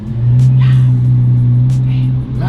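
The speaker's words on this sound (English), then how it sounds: "It doesn't have to be the fastest car, but it sounds the absolute best." A Lamborghini SVJ's engine holds a loud, deep, steady rev close by, a thick droning roar that barely changes for a couple of seconds, with faint voices in the background.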